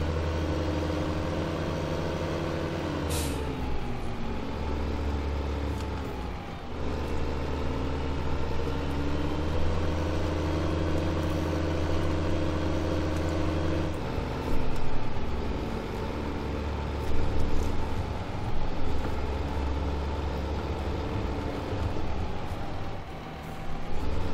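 A tractor engine in the farming game Farming Simulator 2015 drones steadily while driving, a continuous mid-pitched motor hum with slight pitch shifts as it changes speed.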